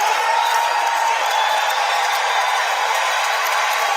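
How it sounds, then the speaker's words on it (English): Wrestling arena crowd in London, Ontario, a dense, loud, continuous roar of cheering with no breaks. "Tremendous crowd on hand tonight."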